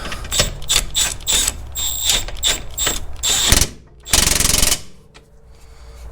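A ratchet tightens bolts on the differential of a 2003–2009 Mercedes CLK W209, giving loud, close rapid clicking in quick repeated bursts, then a sustained whirring run before falling quiet.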